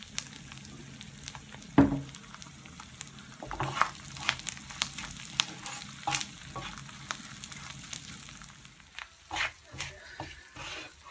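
Fish roe roast frying in coconut oil in an iron wok, a low sizzle broken by scraping stirs and clinks of a spatula against the pan at irregular intervals.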